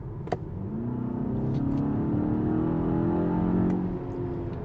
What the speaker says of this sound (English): There is a nice noise actually coming from the engine